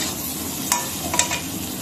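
Potato pieces fry in a pan with a steady, fairly loud sizzle, broken by two or three sharp close scrapes of a stirring spoon. No one speaks.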